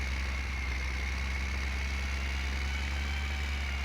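An old tractor engine idles in a farming simulator game, rumbling low and unbroken with a steady mechanical drone, close and fairly loud with no talking.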